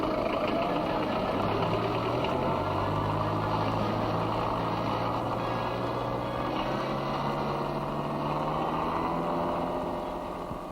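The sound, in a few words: diesel Land Rover engine running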